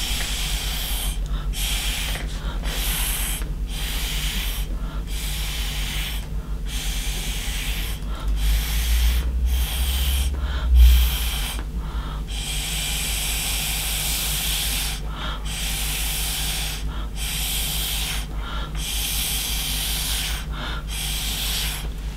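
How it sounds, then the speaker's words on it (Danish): Repeated breathy puffs of air blown onto wet watercolour-style paint to push and spread it, coming in short bursts with pauses between, close and fairly soft over a low steady background hum, no talking. "og så puster du bagefter."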